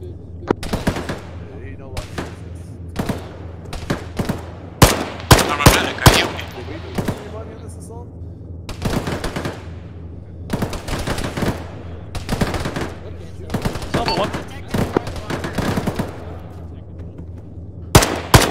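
Rapid bursts of automatic gunfire and single rifle shots ring out in Arma during a squad assault on a bunker compound, cracking loud and close in irregular volleys across the whole stretch.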